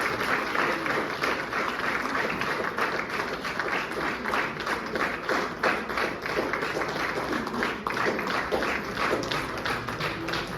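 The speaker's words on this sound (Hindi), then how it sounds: "आप सबसे अनुरोध है तालियां बजाकर लेखिका का उत्साह" An audience applauding at a book launch in Raipur, a dense, sustained burst of many hands clapping evenly for ten seconds, loud and close with no speech over it.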